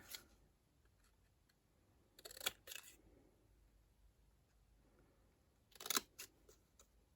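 Two short bursts of crisp snipping, each a quick cluster of sharp cuts, separated by quiet; close and fairly faint.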